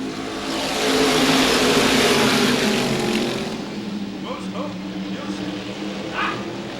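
SK Modified race cars roar around the Waterford Speedbowl oval in 1995, a loud sustained engine drone swelling as the pack passes and then easing, with a commentator talking over it.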